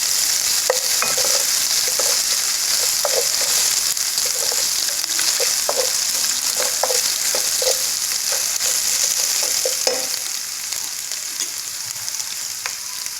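Ginger and garlic fry in hot oil in a pan for daal mash, a loud, dense, continuous sizzle with scattered light clinks of stirring, close and steady for the whole stretch, easing slightly near the end.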